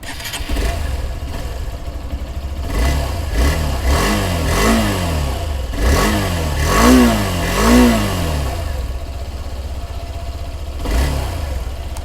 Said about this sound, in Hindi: तो इस तरह का कुछ साउंड मिलेगा आपको इस मोटरसाइकिल के साथ में